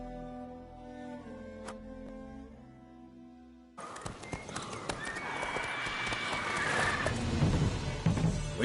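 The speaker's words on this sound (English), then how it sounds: "Whoa there, Roach" A horse in The Witcher 3 video game clip-clops and whinnies; a quiet, tonal stretch gives way to dense, rising hoofbeats and rustling movement that grow louder toward the end.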